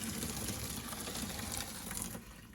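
Boiled water pours into a container holding greasy range hood filters, a steady splashing gush that runs close and continuous, then thins slightly near the end.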